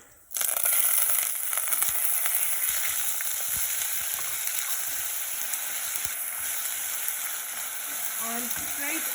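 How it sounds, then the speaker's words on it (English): Onions drop into hot oil with bay leaves and cardamom in a pan, bursting into a sudden loud sizzle that holds steady and close, with faint scraping stirs. "And then I'm going to go in with the onions."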